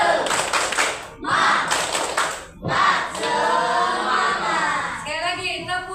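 A school class does a rhythmic spirit clap: bursts of loud, patterned group hand claps in quick sets near by, with chanting children's voices mixed in and a teacher speaking briefly at the end.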